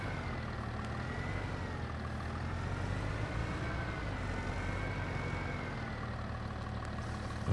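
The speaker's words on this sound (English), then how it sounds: "still in the leased tractor here" A tractor engine in the Farming Simulator game runs at a steady, continuous drone, holding loud and even the whole time with no talk over it.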